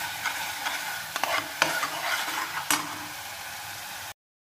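Chickpea curry tempering (chole tadka) sizzles steadily in a pan as it is stirred, with occasional sharp spoon scrapes and clicks over the frying hiss, then a sudden cut to silence.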